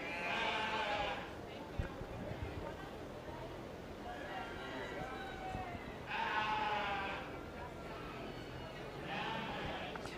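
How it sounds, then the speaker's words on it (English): White face commercial ewes bleating in bursts at a 4-H/FFA sheep show, several drawn-out calls over crowd noise and a faint thud, with a loudspeaker announcer heard at times. "We will now be bringing in our white face ewes."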